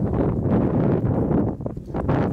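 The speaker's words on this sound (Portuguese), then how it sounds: "Caramba, mano, tá mó vento" Strong wind buffets the microphone with loud, continuous rumbling gusts outdoors. It is close and fills the whole moment without clear speech.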